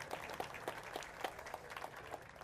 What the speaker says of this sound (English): Give her a round of applause just for remembering where.